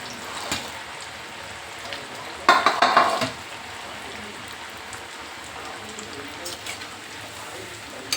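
Alu vadi, rolled colocasia leaf slices, frying in hot oil, giving a steady soft sizzle and crackle throughout with a brief louder burst of spattering partway through.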